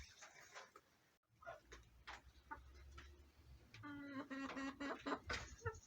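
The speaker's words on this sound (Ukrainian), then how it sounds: "Це наші курочки." Chickens cluck softly and repeatedly, some calls drawn out and some clipped, with faint clicking sounds mixed in. Quiet and a little distant.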